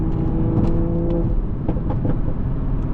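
A 500-horsepower MKV Toyota Supra engine hums steadily and then revs up in sport mode, a loud close drone with a rising pitch and no talking.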